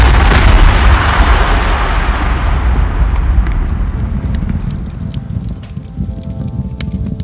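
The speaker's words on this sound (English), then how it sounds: "And then, the Big Bang." A loud, sustained rumbling explosion sound effect representing the Big Bang, with a deep booming roar that swells at the start and slowly fades while crackling debris-like noise lingers over about seven seconds.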